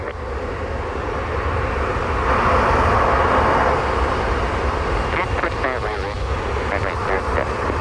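Airbus A330 airliner at Montego Bay airport in Jamaica, a steady loud jet engine roar that swells in the middle and holds, with a voice speaking over it near the end.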